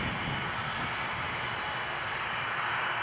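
A Diamond Katana light airplane's engine drones steadily in flight, a loud, unbroken propeller roar heard from inside the cabin with no talk over it.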